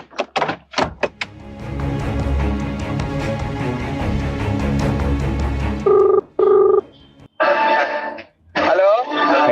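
A phone is dialled and then rings, with short, clear tones and a pair of ringback bursts heard close up after a stretch of louder noise and a few thumps.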